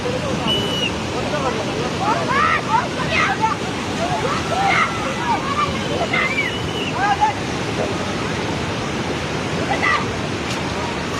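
Loud, continuous roar of rushing floodwater, with faint chirping sounds scattered above the constant torrent.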